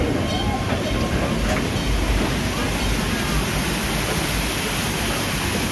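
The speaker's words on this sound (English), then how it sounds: "as we ride the Calico Mine Train" Calico Mine Train ride at Knott's Berry Farm, a steady loud rumble of the ride train rolling along its track with faint rattling, continuous throughout with no clear talk.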